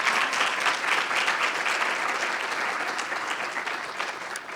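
An audience at a Hampton University Forty under 40 brunch and induction ceremony applauds, a dense, steady wash of many hands clapping close by, fading slightly toward the end, with no speech.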